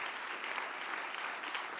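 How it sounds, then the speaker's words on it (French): Sustained applause from an audience at a festival closing ceremony and awards presentation, a dense steady wash of many hands clapping with no pauses, fairly distant and even in level throughout. "Là, ça ne va pas s'arrêter d'applaudir."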